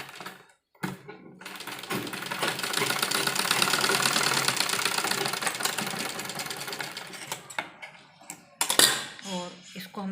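A sewing machine stitches folded dupatta fabric with a dense, steady mechanical whirr that runs for several seconds, framed by brief stops and a few sharp clicks near the end.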